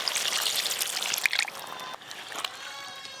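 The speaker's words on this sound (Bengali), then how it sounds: "এবার পরিমাণ মতো জল দেব" Water pours into a pot of cooked chicken with a steady rushing splash that thins to a lighter trickle and a few drips as the flow stops.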